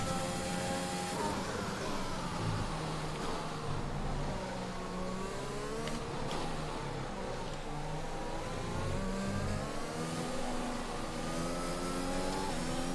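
A failing Mercedes Formula 1 engine in F1 2021 at Paul Ricard drones continuously at high revs, the pitch wavering up and down through gear changes, loud and steady throughout.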